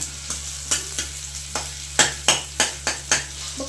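Chopped onion sizzles in a kadhai while a spoon stirs it in regular, distinct scraping strokes, roughly two per second, loud and close over a constant frying hiss.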